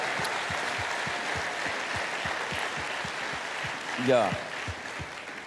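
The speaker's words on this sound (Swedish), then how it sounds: "Vi ger dem en stor applåd" Audience at an evening session of a 2022 European church conference applauds in a steady, sustained wash of clapping with a regular rhythmic beat running through it, while a voice speaks briefly over it near the end.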